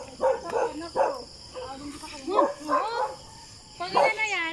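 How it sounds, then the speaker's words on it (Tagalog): A dog barks and whimpers several times at close range beside a waterfall, Matang Tubig Falls in Canlubang, Laguna, its calls coming in short bursts over the steady rush of falling water, with people talking nearby. "May aso ah."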